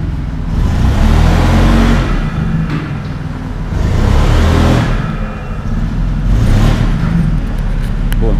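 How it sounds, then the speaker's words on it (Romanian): A heavily modified Nissan GT-R Skyline with an 860 bhp engine revs loudly and close by, rising in three strong surges with a steady rumbling idle between them. "Da, are un motor monstru asta."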